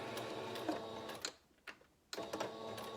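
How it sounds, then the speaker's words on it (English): A sewing machine stitches pieces of a fabric face mask with a steady, close mechanical whir. It stops briefly in the middle, then starts up again. "we're gonna stitch these together"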